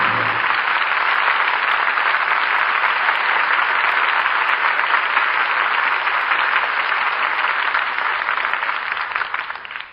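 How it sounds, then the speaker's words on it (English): Audience applause at the close of a live Lux Radio Theater broadcast of the play Jezebel, a dense, steady sustained clapping from a large studio crowd that holds evenly for about ten seconds before tapering slightly at the end. "And we all join in applauding the artists who brought us this play tonight."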